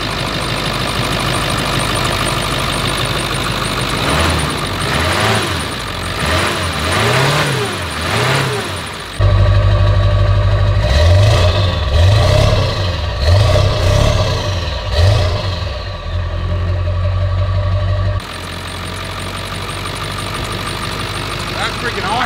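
The 7.3 diesel engine of a truck idles with a clattering knock, then revs up in several rising and falling bursts, loud and close, while voices talk over it.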